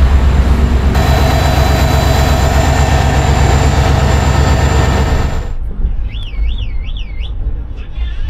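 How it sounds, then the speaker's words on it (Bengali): The Samarsata Express pulls out of Santragachi station with a loud, dense rumble of wheels and carriages that cuts off suddenly, leaving quieter station ambience with a rising and falling electronic warble. "সাঁতরাগাছি থেকে ট্রেন ছেড়ে দিয়েছে"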